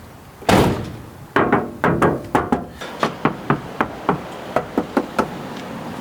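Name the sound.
car front door being closed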